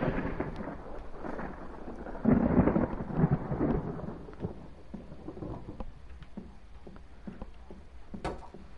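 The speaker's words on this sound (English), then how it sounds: "the lightning is so loud" Thunder from a thunderstorm rolls in a deep rumble that swells loudest midway, then fades into a distant grumble, with a faint rain-like hiss beneath and no talking.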